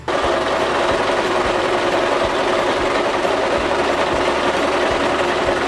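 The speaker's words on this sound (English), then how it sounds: "So you're just gonna take it and you're just gonna sew right along the edges" A sewing machine runs steadily along the fabric edges of a nursing cover, a close, constant motor whir with a faint regular pulse of stitches throughout.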